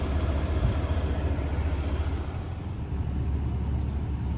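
A 2019 Ram 3500 Longhorn one-ton dually pickup with a high-output Cummins diesel and Aisin transmission drives along, giving a steady low engine drone and road rumble, moderately loud and continuous, with no talking.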